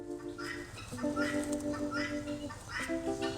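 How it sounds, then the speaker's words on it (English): Noisy guinea fowl call in repeated harsh, rhythmic cries, several birds overlapping at moderate distance outdoors, fairly loud against background sound. "There's those noisy guinea fowl"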